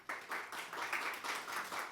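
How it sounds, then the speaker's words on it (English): An audience applauds storyteller Linda Humes with dense, continuous clapping that holds at an even level throughout, moderately distant and fairly soft. "Let's just give Linda Humes a round of applause."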